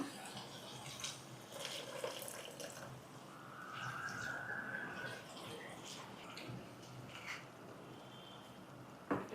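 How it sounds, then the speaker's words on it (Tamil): Water splashes and trickles steadily into a pan, a continuous watery rush with small clatters, fairly faint against room noise. "தண்ணி ஊற்றிக்கலாம்."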